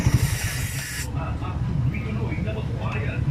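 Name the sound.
aerosol cleaner spraying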